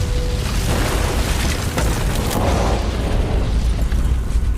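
A bomb explodes in a film scene, producing a loud, sustained, close roar of blast and rumble that fills the whole stretch with no voices.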